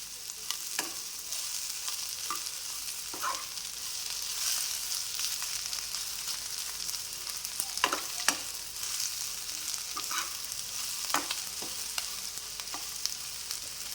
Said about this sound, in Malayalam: മീഡിയം ഫ്ലെയിമിലിട്ടിട്ട് വഴറ്റിയെടുത്താൽ മതിയേ